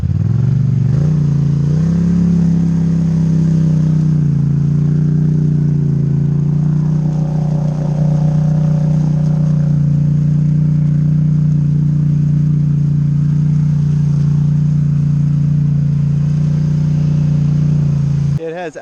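A Highlifter 850 ATV on aggressive 34-inch Motos tires in four-wheel drive gives a loud, close engine drone. It rises briefly at the start, then holds a steady, heavy note for nearly twenty seconds before cutting off abruptly.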